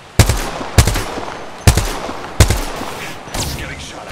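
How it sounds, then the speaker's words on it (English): Video game gunfire plays as a series of four loud, evenly spaced shots, each with a short echoing tail, and a quieter burst follows near the end. "He's getting shot at."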